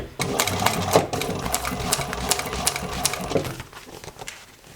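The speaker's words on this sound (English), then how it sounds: "I'm throwing down another line for the French seam here." An upholstery sewing machine runs a French seam on automotive upholstery, a fast rattling stitch patter for about three seconds that then stops, with some quieter handling noise after.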